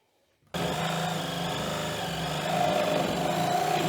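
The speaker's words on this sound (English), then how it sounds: "So I'm going to cut the nails off at the bottom." A power tool cuts through nails at the bottom of a bathroom wall board during demolition, a steady loud grinding whine that starts abruptly and runs continuously, growing slightly harsher toward the end, with no voices.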